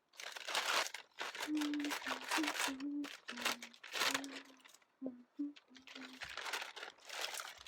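Crinkling and tearing of a Shein sweater's plastic packaging, with short bursts of crumpling and rustling at close range.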